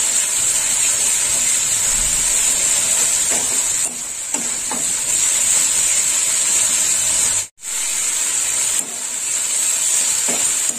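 Yam kalia masala with sour yogurt fries in oil in a pan, the oil separating as it is stirred; a steady, close sizzling hiss runs throughout, dipping briefly once near the end, with no talking.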